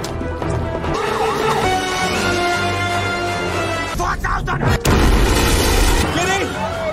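Bomb hidden in a suitcase exploding in a Mission: Impossible film scene, a loud crash and boom set in dramatic music, with a voice speaking over it.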